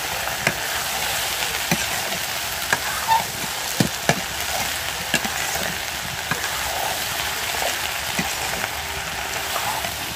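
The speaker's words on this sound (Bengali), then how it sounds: "বালু দিয়ে হলো বাদাম ভাজা হইতেছে।" Peanuts roasting in hot sand on a rainy day give a steady, close frying hiss broken by scattered sharp clicks and rattles, with no talking.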